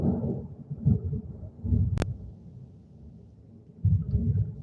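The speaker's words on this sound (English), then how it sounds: "Y'all hear that? That's the thunder." Thunder rolls during a snowstorm as several faint, low rumbles come and go, with quiet gaps between them and one brief sharp click in the middle.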